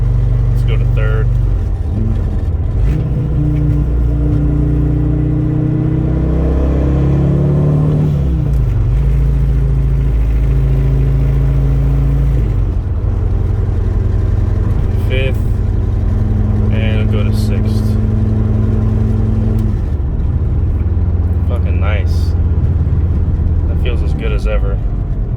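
A turbocharged 2.5L MKV Volkswagen Rabbit engine drones and hums loudly from inside the cabin, with vibration through stiff engine mounts, its pitch rising and falling through gear changes, with people talking over it.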